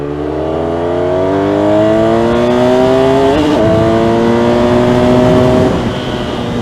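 A BMW F800 motorcycle engine revs at full throttle, loud and close, with its pitch climbing through a gear change before it eases off near the end.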